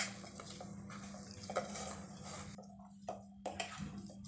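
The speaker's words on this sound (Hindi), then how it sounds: "चावल को मैं अच्छे से पहले मसल लेती हूँ।" Soft, squishy noises of cooked rice being mashed by hand, with faint clinks and taps, close and quiet, over a steady low background hum.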